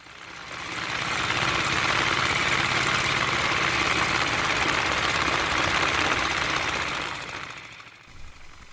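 A diesel Royal Enfield Bullet motorcycle ridden along a road through the Bandipur Tiger Reserve, its engine a steady, loud thrumming drone that swells in, holds for several seconds, then fades away.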